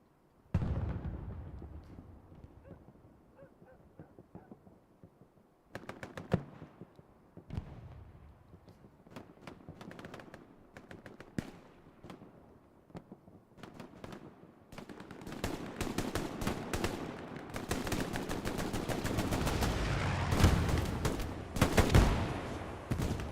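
Gunfire in the online shooter Hell Let Loose, in Carentan town center: scattered distant shots at first, then dense rapid bursts and overlapping automatic fire building to a loud, continuous barrage.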